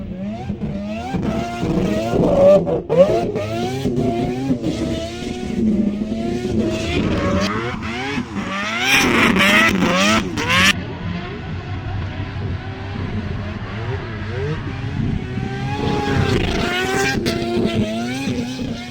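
A six-rotor rotary engine in a Mazda RX-7 revs hard and climbs to a high, screaming pitch, the whine rising and falling in loud, sustained sweeps.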